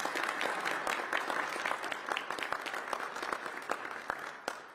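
Audience applause at a civic gathering after a deputy mayor is thanked, a continuous spread of many hands clapping with distinct sharp claps standing out, fairly distant and moderate in level.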